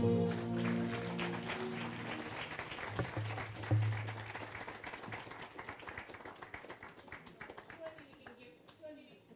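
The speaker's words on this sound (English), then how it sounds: "Give a bigger round of applause than that." An audience at a live movement-building masterclass claps loudly, then the applause thins into scattered claps and fades, with a voice speaking partway through.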